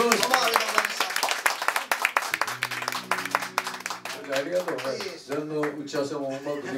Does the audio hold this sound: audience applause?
yes